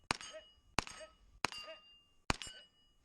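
Four separate gunshots, each with a sharp ringing clang off steel targets, fired at a quick irregular pace during a timed shooting stage, close and loud with brief metallic decay after each hit.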